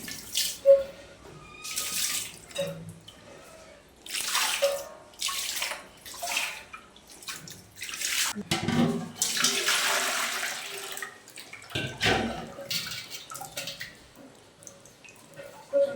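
Running water splashes and gushes in bursts with clattering as a wet grinder is rinsed and scrubbed after grinding idli and dosa batter, close by, no voices.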